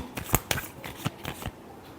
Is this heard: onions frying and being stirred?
no